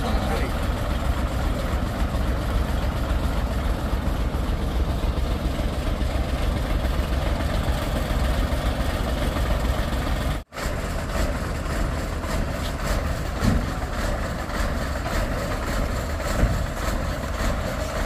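A heavy truck engine idles steadily at close range during a rescue of a nearly toppled truck on a hillside, a continuous low rumble that runs almost unbroken for the whole stretch, with one brief dropout near the middle.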